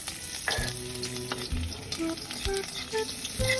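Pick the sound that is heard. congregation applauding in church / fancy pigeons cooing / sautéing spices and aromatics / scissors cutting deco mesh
sautéing spices and aromatics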